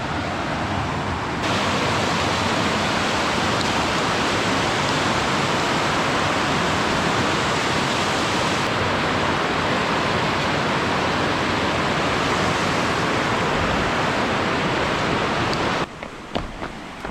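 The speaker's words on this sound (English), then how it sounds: "The river's right there" A river rushes beside a back-country hiking trail, a loud, dense and constant roar of flowing water that fills the scene and cuts off abruptly near the end.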